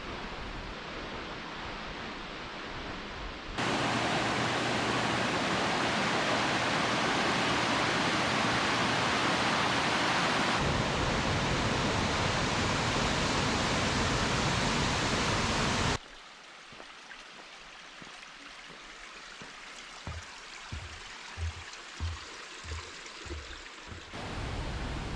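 A waterfall partway up the trail to Upper Latourell Falls roars in a constant broadband rush, louder in the middle stretch, then softer with scattered small knocks and footsteps near the end.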